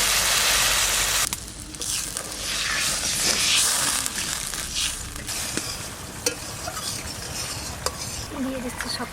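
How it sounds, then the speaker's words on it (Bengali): Water poured onto frying spices in a pan for a village-style stingray fish curry: a loud, steady sizzle that drops sharply early on, then settles into a softer bubbling crackle with a few sharp clicks. "এবার ঝোলে যে জলটুকু লাগবে সেটুকু দিয়ে দেবো"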